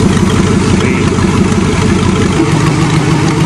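A redneck-tuned Cheviac car engine idles loudly and close by, a dense steady chug with only slight rises in pace and no talk over it.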